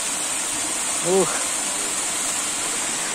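A three-tiered waterfall on the Baga River roars as a steady, loud wash of water throughout, with a brief vocal exclamation rising over it partway through.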